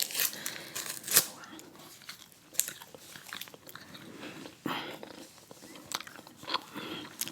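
Juicy Fruit gum is chewed close to the microphone, with irregular soft wet chews and crisp clicking bites spread through the clip.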